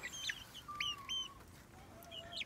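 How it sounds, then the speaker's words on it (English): Bantam chickens in a barn give soft, scattered clucks and short chirpy calls, close by and fairly quiet, with no one talking. "Of course, you got our bantams right here."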